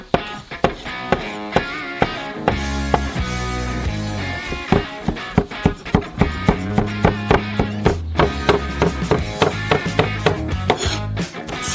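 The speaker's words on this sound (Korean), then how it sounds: "큐빅으로 잘라주세요." Knife chopping smoky roasted pulp into cubes on a board: a steady run of crisp, evenly spaced chopping taps, close and loud, speeding up toward the end over background music.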